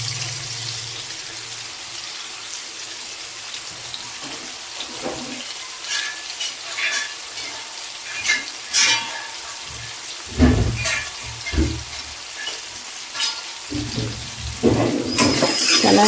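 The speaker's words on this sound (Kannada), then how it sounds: "ಈಗ ಇದನ್ನು ಒಗ್ಗರಣೆ ಹಾಕ್ಕೋಬೇಕು" Onion, tomato, mustard seeds, cumin and curry leaves hit hot fat in a pan for tempering, a sudden loud sizzle and crackle with spoon scrapes and stirring noises building in bursts.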